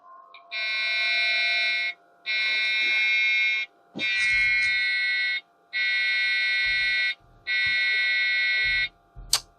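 A vintage Dell computer gives error beeps at power-on: five long, loud, even electronic tones with short gaps between them, clicks and faint handling noises in the pauses.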